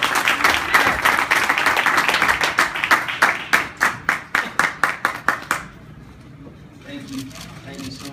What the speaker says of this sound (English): Please give a round of applause from Guadalajara, Jalisco, Mexico. Abner Mares